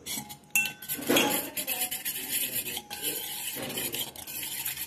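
Wheat flour batter for sweet gulgule is whisked in a bowl, a steady, busy metallic rattle of whisk against the sides with clinking accents, close and continuous throughout.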